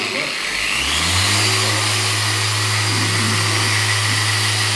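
A car engine revs up and holds a steady, loud drone, rising in pitch early and sustaining close by.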